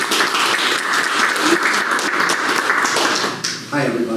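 Audience applause greets a state senator at a Brooklyn tea gathering, a full round of clapping that dips briefly near the end as a voice starts to come through.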